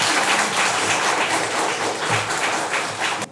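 Dense, sustained applause from a lecture audience at a public history-and-music talk, loud and even throughout without a break.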